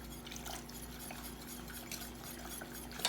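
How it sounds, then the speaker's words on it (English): A flour and water mixture being whisked into the simmering liquid of a crock pot roast gives faint, continuous stirring and light scraping against the pot, with soft liquid sloshing and no voices. "And whisk it while you do it to avoid lumps"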